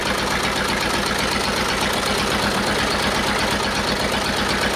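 An old-timer engine with rusty cylinders runs during a cleanser treatment, a loud continuous rough idle with a dense mechanical clatter and steady knock-like rhythm from start to end, no voices.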